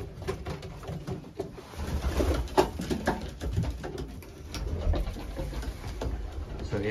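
Racing pigeons coo softly inside a loft alongside weaned young birds, with low murmuring calls and scattered rustles and knocks heard close by.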